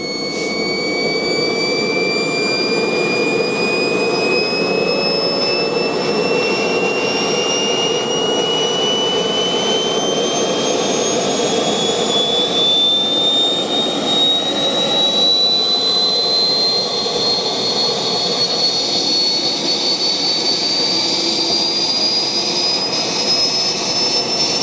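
A newly bought jet engine runs steadily at high power, a loud continuous roar with a rising turbine whine that climbs slowly in pitch throughout, close by and with no talking.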